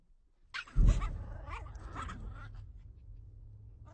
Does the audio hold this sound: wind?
no